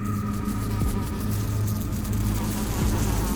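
Flies buzz as a continuous droning hum in a sound effect, steady and fairly loud, over a low rumbling background.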